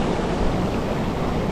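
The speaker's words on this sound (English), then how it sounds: "Every now and again, the waves come in and knock you off" Loud, steady rush of ocean surf washing into a rock pool on the coast of Western Australia's southwest near Margaret River, continuous broadband roar with wind buffeting the microphone, no voices.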